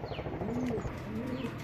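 Racing pigeons in a loft coo softly and repeatedly, low rolling calls close by, with faint chirps mixed in and no talking.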